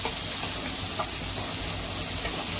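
A turmeric-laced frying mixture for besan vadi sizzles loudly and steadily in a pan, a dense close hiss with faint stirring barely standing out.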